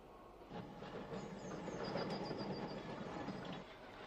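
An Isle of Thanet tram rumbles past on rails at moderate distance, a steady low roll with faint high metallic squeals from the wheels, rising and then fading.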